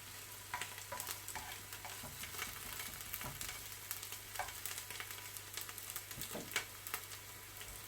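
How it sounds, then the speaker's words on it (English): Onions sauteing in a pan until brown, a soft continuous sizzle broken by scattered clicks and scrapes of stirring, close and moderately quiet, no voices. "So I'm going to saute the onions until it's brown."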